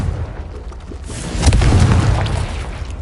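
Confringo fire spells bursting in Hogwarts Legacy combat, a dense run of booming explosions with a heavy low-end blast peaking midway, continuous and loud with no talk.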